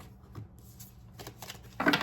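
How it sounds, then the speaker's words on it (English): Tarot cards are pulled from a deck, soft papery rustles and slides near the microphone. A louder flurry of card handling comes at the end, with no clear talking. "I'm going to pull a few more cards to"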